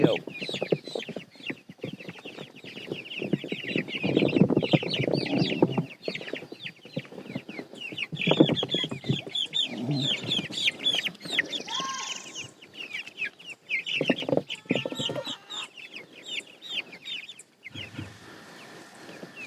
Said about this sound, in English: All right, little chickies. Are you happy now?